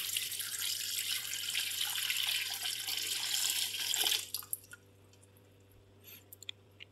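Water pours from a tap in a steady rushing stream into a cooking pot for beef yakhni pulao, then stops abruptly. A few faint drips and small clinks follow in near quiet.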